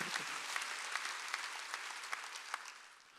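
A church congregation at a Wednesday worship service claps steadily, a dense, fairly distant wash of applause lasting a few seconds with no talk over it.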